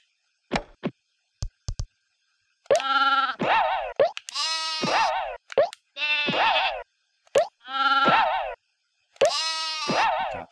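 Sheep bleat repeatedly in the Croc: Legend of the Gobbos video game, loud close cartoonish bleats in bursts separated by short plops and clicks, with no talking.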